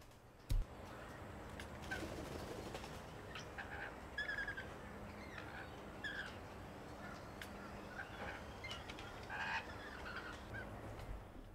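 A pair of rainbow lorikeets bathing in a bird bath on a hot, humid day, giving faint scattered squawks and chatter against a quiet outdoor background.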